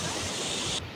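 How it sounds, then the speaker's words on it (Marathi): Rain-swollen, muddy water rushes hard down a waterfall at Savatsada in Chiplun, Konkan, a loud, dense, roaring wash that continues unbroken before cutting off abruptly near the end. "आहे ना खाली पाणी एकदम जोरात, त्याचे हे फवारे असे येतात"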